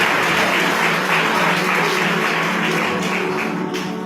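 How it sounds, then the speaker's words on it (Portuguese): A church congregation applauds during a worship service, dense and loud continuous clapping filling the whole span with no voices, tapering slightly at the end. "Deus aplauda Ele"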